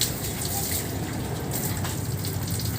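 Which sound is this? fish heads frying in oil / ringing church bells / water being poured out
water being poured out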